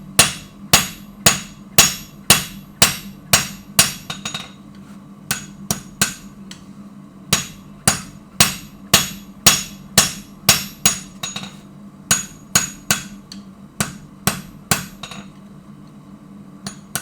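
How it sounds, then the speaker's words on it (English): Blacksmith's hammer striking half-face blows off the outside edge of an anvil, sharp ringing metallic strikes in quick regular bursts with brief pauses between groups, close and loud. "Off the outside edge of the anvil, right at the back of my jaws,"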